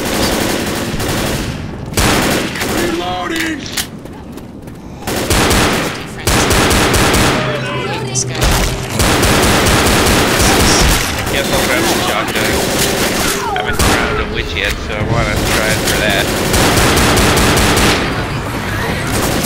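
Shotgun fire in the zombie game Left 4 Dead comes in loud, dense bursts of gunshots that repeat throughout, mixed with other combat noise and sharp impacts.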